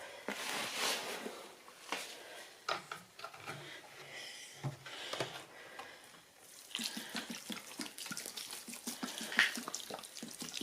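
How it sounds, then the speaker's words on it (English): Running water pours and splashes in uneven bursts into a refractory mix for relining a road furnace, close by, with clattering and stirring noises mixed in as it flows. "When I'm adding water to this"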